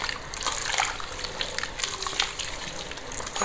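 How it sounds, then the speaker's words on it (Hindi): Water poured into a pot of thick haleem, a steady close trickle and splash lasting a few seconds with small sloshing bursts and no voices. "मैं इसमें थोड़ा सा पानी ज़रूर ऐड करूँगी"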